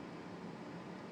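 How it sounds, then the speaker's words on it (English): A fan blows inside a hot HGV truck cab, giving a steady, even rushing hiss with no breaks and no voices. "Sorry if you're going to hear a lot of fan noise now, but it's so hot."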